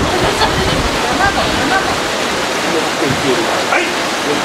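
River water rushes steadily in a broad, loud wash near the main flowing channel, with faint voices of people talking under the constant flow.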